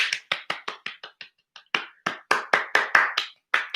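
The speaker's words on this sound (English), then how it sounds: "A round of applause for the Houston Astros." Hands clapping in a brisk, uneven run of sharp, close claps with a few short pauses, like a small group applauding a baseball team's playoff win.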